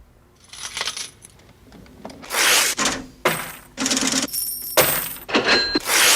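Coins clatter and jingle in a rhythmic early rock and roll tape-music sample: a few faint chinks, then loud, bright bursts of cascading metal coins recurring like percussion hits, close and alone.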